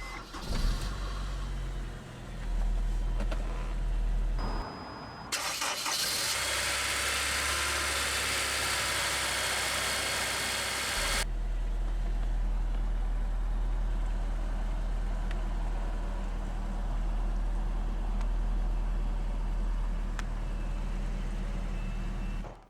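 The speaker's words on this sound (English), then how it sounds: "let's go ahead and start the engine" A 2007 Honda S2000 sports car with push-button ignition cranks and fires, a loud burst of start-up revs settling into a steady, even idle that carries on alone for many seconds.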